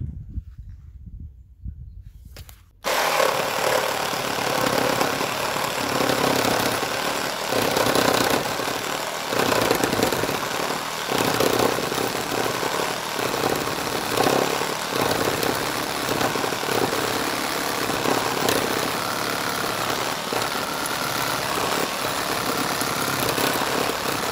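An Einhell TE AP 18 LI cordless reciprocating saw cuts into metal and wood after a short quiet moment, its harsh buzzing and rattling strokes running loud and unbroken to the end.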